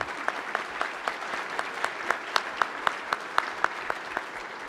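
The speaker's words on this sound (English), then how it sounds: "I just want to give them a round of applause." An audience at a California emergency management preparedness summit applauds the conference organizers with steady, moderately loud clapping, with a few sharp individual claps standing out over the continuous wash.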